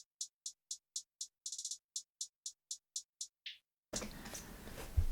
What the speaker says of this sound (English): I like playing with the hi-hat pitch really quickly